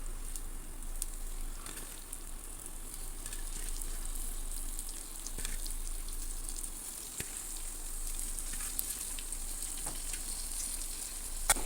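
Half a kilo of chicken frying in a pan with green chillies for a curry, a constant close sizzle and crackle of hot oil with occasional small pops, steady throughout and free of speech.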